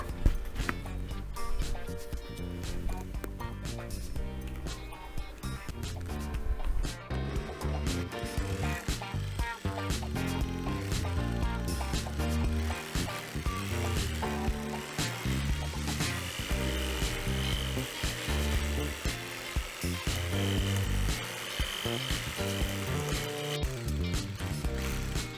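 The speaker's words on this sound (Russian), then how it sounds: "Далее беру перфоратор и размешиваю смесь." A rotary hammer drill churns gypsum plaster mix in a bucket, a continuous rattling mechanical whir with uneven knocks and grinding that runs loud and steady throughout, no voices.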